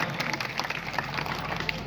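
An audience gives a round of applause for a young girl's dance, with dense clapping from many hands mixed with crowd murmur, fairly close and lively throughout.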